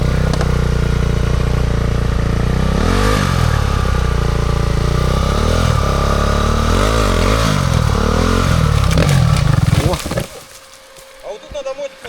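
Loud, close enduro motorbike engine labouring and revving unevenly while climbing a rocky stream bed on a hard enduro traverse, then cutting out abruptly near the end.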